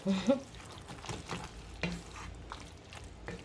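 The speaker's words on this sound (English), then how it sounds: "You have to stir." Pasta being stirred in a pot of beef goulash, with soft scraping and knocking of a spoon against the pot in an irregular rhythm, close up and moderately quiet.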